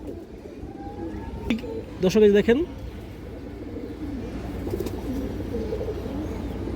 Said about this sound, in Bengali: এই যে দেখেন একবার পিওর ইন্ডিয়ান কালদম কবুতর দর্শক